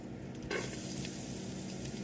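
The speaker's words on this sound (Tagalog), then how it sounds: "Okay na po ang ating pork steak at tayo po ay maghisa" Pork steak sautéing in a hot pan, a continuous close sizzle and crackle that swells sharply after a half-second of quieter frying, with a light scrape of stirring.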